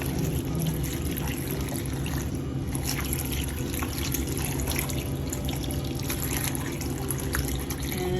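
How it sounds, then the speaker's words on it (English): Water pours steadily into a pan of cooking mashed tapioca seasoned with turmeric and chili, a close, continuous splashing trickle that holds at an even level throughout with no talk. "I'm adding some water also to help it cook."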